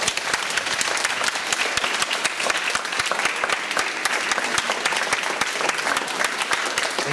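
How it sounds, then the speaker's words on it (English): Students at St Leonards College clap for Dr Karl, a dense, steady burst of applause from a full room that keeps up without a break for about seven seconds. "Everyone give them a clap."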